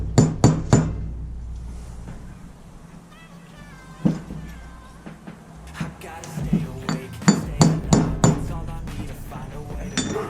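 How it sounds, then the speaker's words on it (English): Gentle hammer taps on a steel seal driver seat a trailer wheel bearing seal. Sharp metallic clinks come in quick clusters with short pauses between them, close and fairly loud, and there is no talking. "I'm going to very gently love tap the high side until I get it in there straight"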